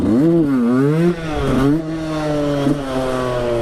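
A 125cc supermoto motorcycle revs hard during a wheelie, its engine note rising and falling in several loud, close surges with no talk over it.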